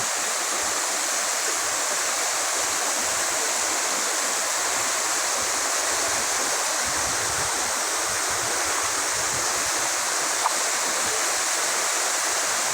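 Waterfall pouring steadily into a pool, a loud constant broadband rush of falling water filling the whole stretch, close and uninterrupted, with no voices.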